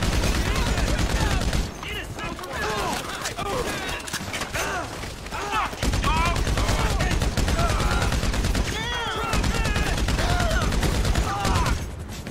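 Sustained machine gun fire in GTA 5, rapid dense bursts running almost continuously with brief pauses, loud and close, with a voice talking over the shooting.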